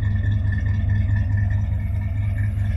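A 1962 Chevrolet Impala SS convertible's 327 V8 idles with a deep, steady rumble, even and close by with a smooth low throb, no voices over it.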